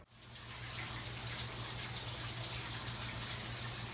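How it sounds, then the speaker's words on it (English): Water from a home shower runs in a bathroom at night, a steady hissing spray that starts abruptly and then holds constant, close and fairly quiet, with no voices. "We're gonna go take a shower."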